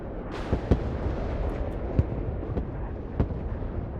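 Bombs dropped from a bomber plane in a video game burst in a rolling series of booms, several sharp blasts punctuating a dense rumbling barrage, loud and without talk.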